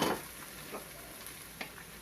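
Peppers, onion and mushrooms sizzle steadily in a hot pan, a constant crackling hiss broken by a few faint clicks and taps of stirring.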